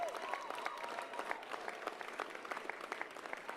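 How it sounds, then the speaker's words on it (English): A crowd at a New Orleans election-night celebration claps in a loose, scattered patter, individual hand claps standing out against a faint background murmur and a brief voice at the start. "give them a big round of applause"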